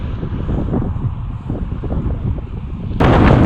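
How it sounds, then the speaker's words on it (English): Strong wind buffets the microphone outdoors on a cycling trip, a loud, low, rumbling roar that thumps and flutters continuously, then jumps to a harsher, brighter blast near the end. "The wind is really strong."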